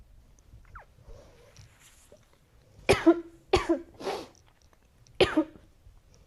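Several sharp coughs in a quick cluster, then one more after a pause, close and loud against an otherwise quiet room.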